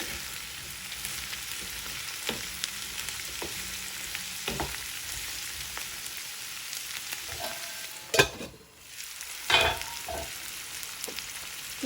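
Cauliflower for masala curry fries in a pan, a steady soft sizzle running throughout, broken by a couple of louder stirring scrapes and clatters near the end, close and without talk.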